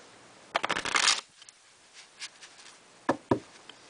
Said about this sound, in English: then you give them a riffle shuffle